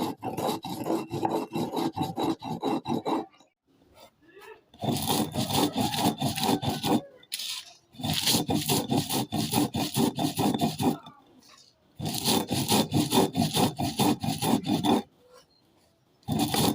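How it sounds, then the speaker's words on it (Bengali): Spices ground by hand on a stone slab, long bursts of gritty rubbing and scraping that repeat four times with short quiet pauses between, close and steady. "দেখো বন্ধুরা, এই যে মশলাগুলো পাটাকুটে গুঁড়ো করে নিয়েছি।"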